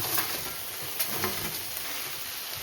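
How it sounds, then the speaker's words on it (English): Tofu goes into a thickening sauce in a hot cast iron pan, a soft steady sizzle with a few faint stirring clicks, close and fairly quiet. "The sauce is thickening up. I'm going to add my tofu in."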